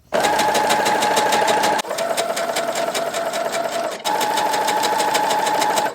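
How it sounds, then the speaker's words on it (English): A sewing machine ruffling lace fabric made from a tablecloth runs at close range with a fast, even mechanical chatter in three bursts, and brief pauses between them. "The machine will do the ruffling for you."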